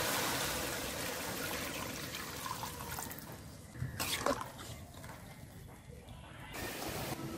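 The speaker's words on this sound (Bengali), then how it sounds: "এখন আমি দিয়ে দিচ্ছি জল," Water poured into a cooking pot while preparing a fish curry with pointed gourd and potato, a steady trickling stream with a few louder splashes partway through, fairly faint and close.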